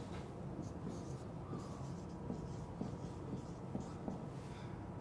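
Chalk or marker strokes on a board during a physics lecture on magnetism: faint, repeated scratchy taps and short strokes over a low, steady room hum, with no speech.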